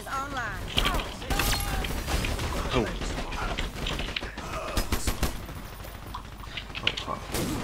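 A mounted machine gun in Dirty Bomb fires in rapid bursts, sharp, close clatters scattered through the clip amid other game effects, with someone talking over the gunfire.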